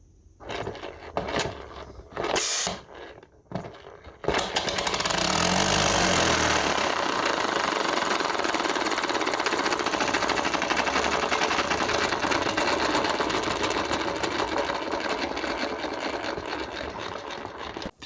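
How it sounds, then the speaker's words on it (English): A 3D printed compressed air piston engine runs on 30 psi: a few sharp taps and puffs at first, then a loud, steady, high-RPM rapid chatter with hissing air that holds for the rest of the clip. "The engine spins at a pretty high RPM"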